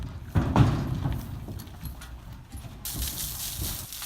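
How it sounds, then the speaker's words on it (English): Heavy hooves clomp and thud as a horse steps into a 24-foot stock trailer, with hollow booming footfalls on the trailer floor, then a metallic rattle near the end. "When the day's done, it's time to trailer this horse."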